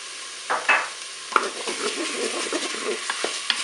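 Garlic goes into a pan for a curried pork ratatouille, with a faint steady sizzle broken by utensil scrapes and clinks of stirring up close.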